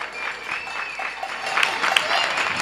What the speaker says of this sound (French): Ah, on entend les applaudissements.